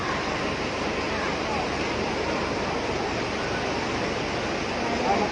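Heavy rain pours over floodwater around a burst levee in a flooded area of Lhoksukon, North Aceh, making a continuous dense roaring wash with no breaks.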